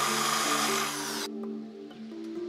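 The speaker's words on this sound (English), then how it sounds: "drill into the outside edges of both braces about 1/8 of an inch to make room for the washers and the wing nuts" A power drill with a wood bit bores into wooden bench braces: a loud high whine for about a second that stops abruptly, followed by a faint low motor hum as it winds down.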